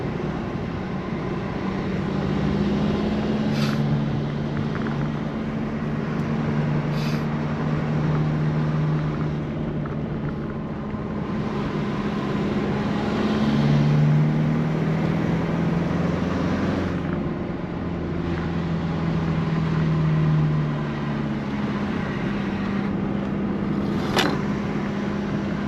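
An old Jaguar E-type drives up the winding Mont Cenis mountain road, its engine droning steadily and rising and falling in pitch through gear changes, with no talking.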